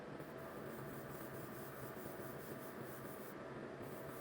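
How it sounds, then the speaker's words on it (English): Steady, continuous abrasive rubbing of sanding a 1/24 scale Tamiya Skyline GT-R model car body, a dense rasping texture with no breaks, close and fairly quiet. "spent about 3 hours sanding it back nice and smooth"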